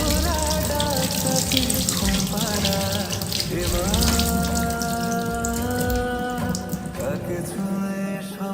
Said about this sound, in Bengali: এখন আমি জলটা স্ট্রেনারে ঝরাই নিচ্ছি।